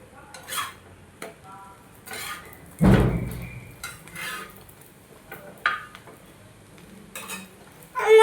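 Bread roasting with ghee in a frying pan for a bread omelet, with light sizzling under intermittent scraping and stirring clinks of a utensil against the pan, one louder clatter near the middle, close and fairly quiet.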